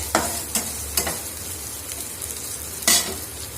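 Sliced onions sauté in a hot pan for a Tamil banana-flower kootu, a low steady sizzle broken by a few sharp scraping stirs of a spatula against the pan.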